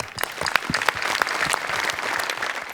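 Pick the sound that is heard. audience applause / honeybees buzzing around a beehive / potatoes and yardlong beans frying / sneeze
audience applause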